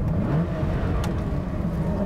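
A Lamborghini Miura S engine, freshly rebuilt with only a few hours of running, revs up from around 3,500 rpm toward 4,000, a loud, close, steady mechanical roar with a rising pitch.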